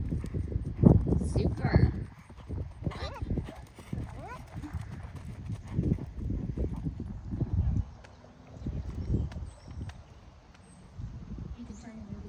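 A horse canters in a dressage arena, its hooves giving a rhythmic, fairly close drumming of beats on the footing, with a riding instructor talking over it.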